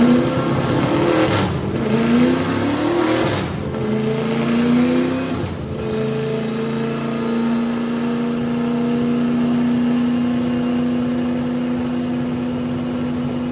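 A nitrous-fed V8 drift Corvette revving on a dyno, several sharp rising revs in quick succession before the engine settles into a loud, steady high-rpm drone held to the end.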